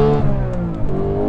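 A Porsche GT3's 4.0-litre flat-six engine revs loudly up close, a steady harmonic drone with shifting pitch that carries without pause for just over a second.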